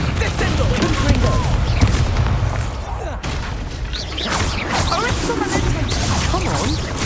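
Combat spells such as Confringo, Expelliarmus and Descendo fly in Hogwarts Legacy with a busy stream of magical whooshes, crackling bursts and impact booms, layered thickly with a brief gap midway before the flurry resumes.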